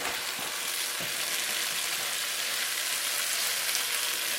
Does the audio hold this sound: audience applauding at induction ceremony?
no